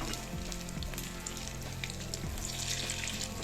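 Paniyaram batter sizzles and fries steadily in a pan after the pieces are flipped to cook the other side, a continuous close crackle with soft clinks, no talking.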